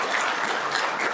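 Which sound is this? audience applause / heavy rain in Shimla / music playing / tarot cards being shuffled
audience applause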